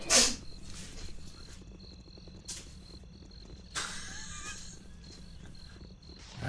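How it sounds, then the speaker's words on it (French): A character sneezing in the fantasy role-playing game Baldur's Gate, one sharp sneeze at the start over quiet ambient insect-like chirping, followed by softer bursts of game sound. "Ah, ça éternue derrière."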